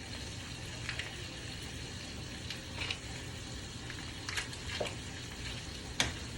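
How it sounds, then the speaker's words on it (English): Unsalted butter and meat fry in a pan for a chicken massaman curry, giving a steady low sizzle with light stirring scrapes and a few sharper clinks, close and fairly quiet with no talk. "I'm going to throw in some unsalted butter right into the pan, actually, along with the meat."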